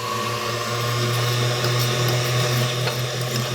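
An electric mixer whips lemon meringue with cornstarch into a foam, a steady loud motor whine with a low hum running unbroken throughout, no voices.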